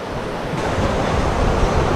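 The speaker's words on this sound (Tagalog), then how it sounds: "Yung falls guys, nakita na namin sa wakas." Waterfall in Miaoli, Taiwan, a broad continuous rushing roar of falling water, steady and fairly loud with some wind buffeting the microphone.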